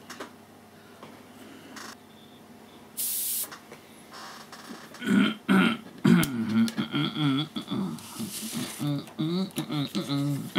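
A series of throaty, rhythmic clearing and grunting vocal sounds, close and loud, following a brief hiss of spray and quiet background.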